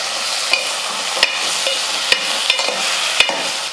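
Drumsticks, tomatoes and onions sautéing in a pan, a constant sizzle broken by several sharp spatula knocks and scrapes against the pan, close up.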